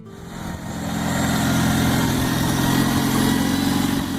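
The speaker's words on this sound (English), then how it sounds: "let us listen again to that familiar engine sound" A Cub Lo-Boy tractor engine runs steadily at a close distance, its low, throbbing mechanical drone rising slightly in level at the start and then holding constant with no voices present.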